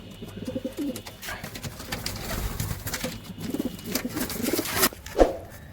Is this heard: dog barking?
no